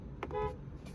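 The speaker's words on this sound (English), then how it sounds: "We've got a pretty standard horn that you honk in the middle." A Polestar 2 electric car's horn gives a couple of short, faint toots from the center of the steering wheel, brief and somewhat muffled.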